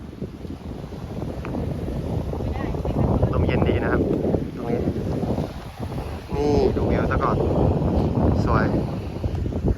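Wind blows steadily across the microphone on Koh Samet island, rough and gusty throughout, with people talking over it.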